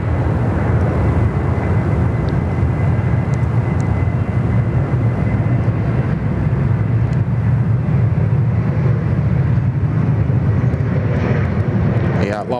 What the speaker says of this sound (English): the Max that we just saw depart, well, the preceding departure anyway, the 737 Max